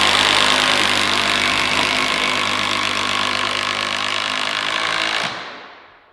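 A power driver runs in one long, loud, continuous whine as it sinks an 8-inch Fastenmaster screw through a railing into a cabin post, then winds down and stops abruptly near the end.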